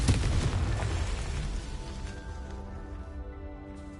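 Confringo fire spell explosion from Hogwarts Legacy: a loud blast at the start that rumbles and decays over several seconds into a ringing, fading tail.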